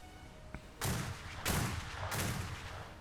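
Port-side cannons of an HMS Royal Navy ship in a naval roleplay game fire in three heavy booming volleys about a second apart, loud and close, each with a long rumbling tail.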